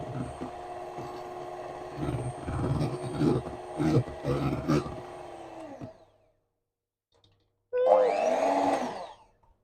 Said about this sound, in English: I always feel like it looks like a Balzac when you're beating eggs with the hand mixer.